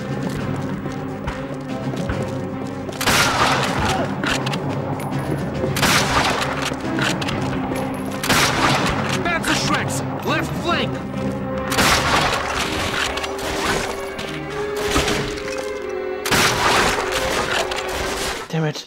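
Gunfire in the World War II shooter Call of Duty: Finest Hour against enemy machine gunners. Repeated loud bursts of shots come every few seconds over a constant din of battle noise.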